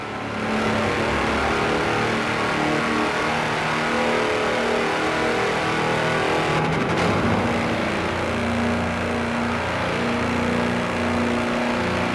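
A tractor on 54-inch mud tyres driving flat out in the racing game Forza Horizon 4, its engine droning loud and steady throughout with a held, sustained roar and no talking.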